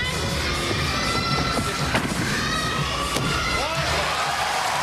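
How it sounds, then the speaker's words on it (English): Arena crowd at a gymnastics world championship, women's vault final, cheering and shouting steadily throughout, loud and dense, with a few thumps and slams rising above the roar. "But cheering for her nonetheless right now."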